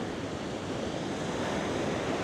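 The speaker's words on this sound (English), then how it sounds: "Waves are getting quite big." Big ocean waves breaking at Nazaré, Portugal, a continuous broad roar of surf with wind rushing across the microphone, steady and loud with no voices.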